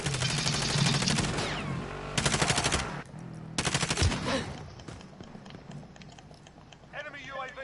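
Video game gunfire in an online shooter: rapid bursts of automatic fire come in several loud clusters under a busy game mix, with a few softer shots trailing off near the end.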